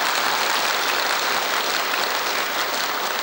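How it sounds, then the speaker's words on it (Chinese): A large audience applauds a Georgian dance troupe's stage performance at a 2013 Georgian culture event in China, a dense, steady wall of clapping throughout with no voices. "舞蹈团表演的怎么样？用掌声来告诉我好不好？"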